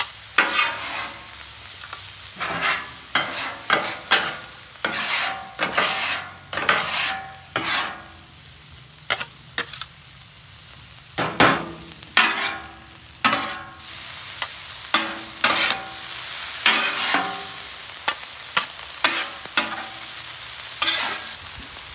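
Onions, sliced filet and mushrooms stirred on a flat top grill set low, a steady sizzle broken by many rhythmic scraping strokes of a spatula across the metal surface.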